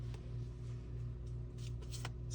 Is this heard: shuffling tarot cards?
yes